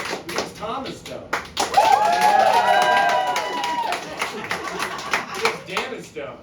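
A comedy game-show audience in Boston cheers and whoops in a loud swell of raised voices lasting a couple of seconds, with scattered claps and a host talking before and after.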